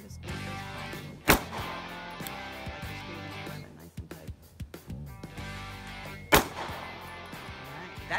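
Two sharp, loud pistol shots from a Sig P365 crack several seconds apart at a shooting range, with quieter rustling and handling noise in between.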